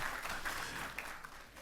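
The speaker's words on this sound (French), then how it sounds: "Je crois qu'on peut l'applaudir" Audience applause in a conference hall during a plenary session on financing small businesses in Guinea, a brief, fairly faint, steady clapping wash.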